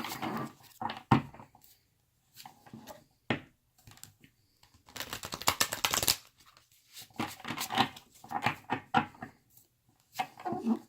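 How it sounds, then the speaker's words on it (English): Tarot cards being shuffled by hand in a quiet room, a series of short riffling and sliding bursts with a longer dense run in the middle, close and moderately loud, no talking. "I'm just going to shuffle these cards real quick."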